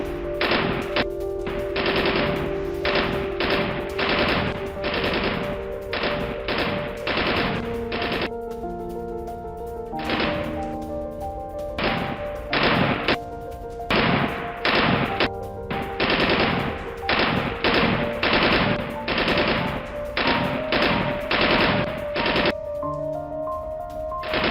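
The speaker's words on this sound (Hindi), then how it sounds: "वॉर जोन में उतारी गई रोबोटिक मशीन गन को लेकर है" Robotic machine gun fielded in a war zone, fired by Russian forces against Ukrainian troops: sustained loud bursts of automatic fire in repeated volleys, with brief pauses between strings of shots and no talk.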